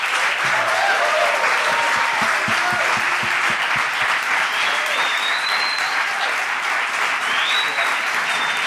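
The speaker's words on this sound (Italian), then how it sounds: "Signore e signori, per fuori un grande applauso a Pietro Sermonti" Loud, sustained audience applause greets guest Pietro Sermonti arriving on the Tintoria show, a dense, even roar of clapping filling the whole stretch with a few faint whistles over it.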